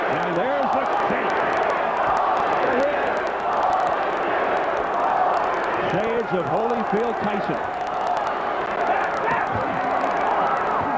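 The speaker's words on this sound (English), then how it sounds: "The crowd trying to urge Holyfield on." A boxing arena crowd roars steadily during the Holyfield vs Moorer rematch, a dense continuous wall of cheering that never lets up, with a commentator talking over it.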